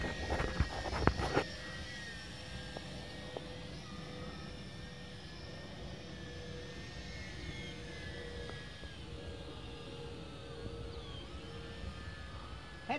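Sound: RC model airplane motor in flight

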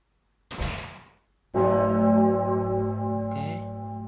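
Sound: bell ringing in video game Pocket Mirror

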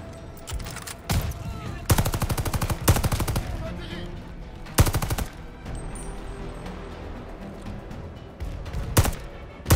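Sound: gunfire in Call of Duty video game

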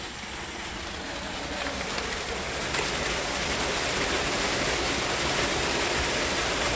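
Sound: tubewell water gushing out under pressure

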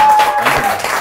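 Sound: applause

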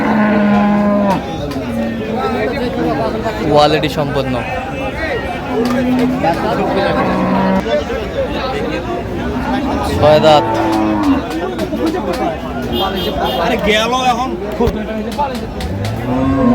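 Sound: dairy cows and calves mooing at cattle market

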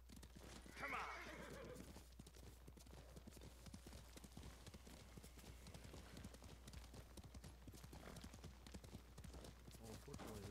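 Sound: horse galloping and neighing in video game

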